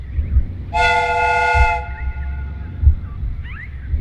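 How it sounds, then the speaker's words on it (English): A steam train whistle in the Sherlock Holmes: Crimes and Punishments video game gives one loud, sustained blast of about a second over a low rumbling background, then fades. "The steam whistle is ready to be used."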